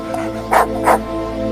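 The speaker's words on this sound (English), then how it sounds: "Why are you barking so loud?" A dog barks twice in quick succession at close range over a steady low engine hum, as from inside or beside a car.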